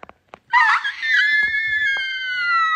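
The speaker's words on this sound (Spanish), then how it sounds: "A ver, grita." A person screams on request during an Instagram live stream, one long, high, wavering shriek that holds steady for about two seconds after a few faint sounds, loud and close with no talk over it.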